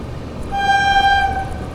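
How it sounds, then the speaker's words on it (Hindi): An Indian Railways train horn sounds on the Kota line, a steady multi-tone blast lasting about a second over low rumbling rail and engine noise. "यहाँ पर कोटा लाइन से कोई ट्रेन आ रही है।"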